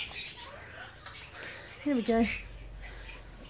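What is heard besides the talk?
birds chirping in aviary, quail and parrots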